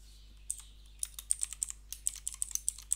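Code typed on a computer keyboard, a run of crisp close key clicks in an irregular rhythm over a low steady hum, with no voices.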